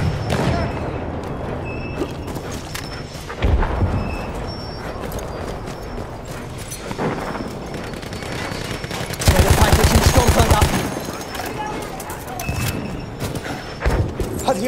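Madsen light machine gun firing in a World War I battle game at Amiens, with bursts of rapid automatic fire, distant booms and battle noise, and a dense, loud volley near the middle.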